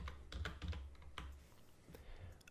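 Quick keystrokes tapped on a computer keyboard, a soft, uneven run of close clicks at a low level with no talking.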